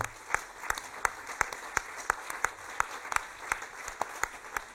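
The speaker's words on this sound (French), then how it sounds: "On peut vous applaudir à nouveau." Sparse applause from a small audience at a talk on Pablo Picasso, individual claps ringing out at a steady, slightly uneven rhythm, fairly quiet and unaccompanied by voices.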